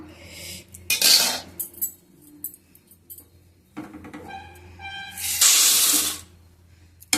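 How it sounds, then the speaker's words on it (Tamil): Roasted chana dal being transferred onto a plate, heard as sharp metallic scraping and clinks of a spoon against a pan in a few distinct bursts with quiet gaps between them. "இப்போ இது நம்ம ஒரு பிளேட்டுக்கு மாற்றிக்கலாம்."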